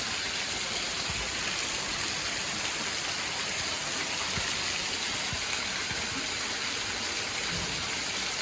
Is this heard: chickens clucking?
no